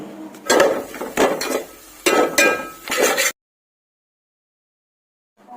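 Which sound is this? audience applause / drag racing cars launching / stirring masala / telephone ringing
stirring masala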